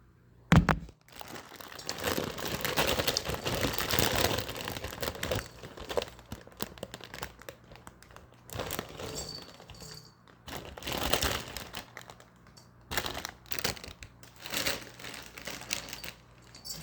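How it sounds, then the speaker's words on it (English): Crisp crinkling and rustling as hands sift through fresh kale leaves, a steady close rustle broken by short pauses, with no voices. "I'm sifting through this kale now."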